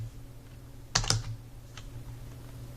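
Computer keyboard typing while entering a ROUND formula in an Excel spreadsheet: a short cluster of close, crisp key clicks near the middle, with a faint single tap afterward over a quiet room hum.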